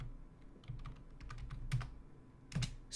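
Computer keyboard typing, a quiet run of scattered key clicks with a few sharper, louder strokes near the end, close up and alone.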